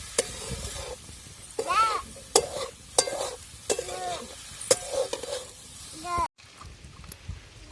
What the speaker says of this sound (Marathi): तर आपण आता भुगा पण मस्त परतायला टाकलेला आहे